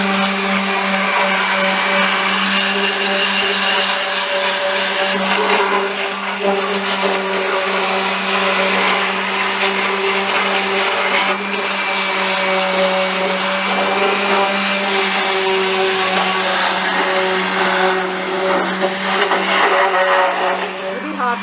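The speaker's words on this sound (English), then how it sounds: "I've got to give this part a sand because it still looks like rust" A power tool sands brown rust off a part from a 1974 Toyota Celica TA22, running as a loud, steady whine with constant tonal hum throughout, no pauses.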